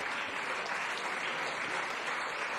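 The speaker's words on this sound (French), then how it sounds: "On peut les applaudir très fort pour ce combat de haut niveau." Crowd applause after a high-level fight at an MMA event, dense sustained clapping from a large audience, fairly loud and even throughout.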